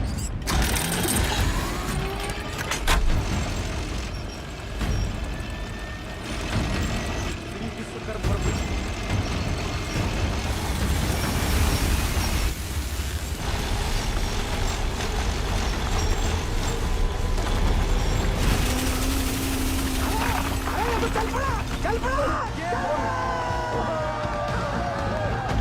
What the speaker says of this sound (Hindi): जिस तरह ये ब्लेड जमीन को काट रहा है, 150 फीट तो मक्खन की तरह हो जाएगा।